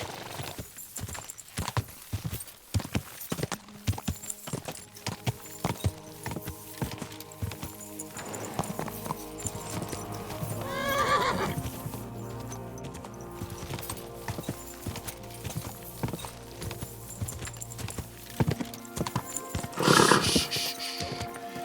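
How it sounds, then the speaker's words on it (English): A horse in Kingdom Come Deliverance II, with rapid clip-clop hoofbeats at a gallop and then a walk, and loud neighs and whinnies breaking through twice over the steady hooves and game sounds. "Easy, good horse."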